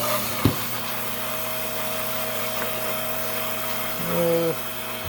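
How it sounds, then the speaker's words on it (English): A 5-inch trim saw for cutting jasper stone hums steadily up close, with a brief knock early on and a short shift in pitch near the end, no voices present. "we're down here on my 5-inch high-tech trim saw. I'll plug it in because the switch is out."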